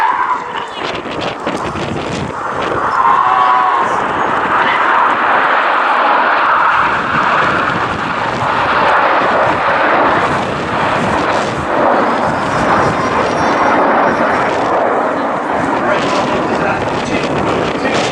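Red Arrows-style formation display jets fly past at the Cosford airshow trailing red and blue smoke, a loud sustained roaring rush swelling and lingering over many seconds, with commentary voices underneath.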